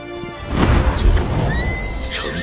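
A horse whinnies with a loud, high, wavering neigh that rises and trails off, backed by a thumping hoof sound.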